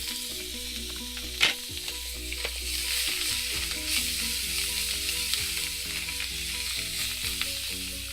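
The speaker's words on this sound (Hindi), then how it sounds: "मिक्स करेंगे अच्छे से और 30 सेकेंड के लिए इसको हम सौटे करेंगे।" Potato subzi sautés in a skillet with a steady, close sizzle and stirring, one sharp clatter early on, and a faint low tonal hum beneath.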